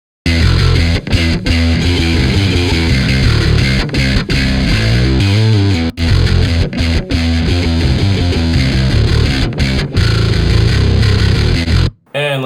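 Heavy, distorted bass guitar riffing with a dense, saturated tone from a Neural DSP Parallax amp simulator preset, playing continuously and loudly before cutting off briefly near the end.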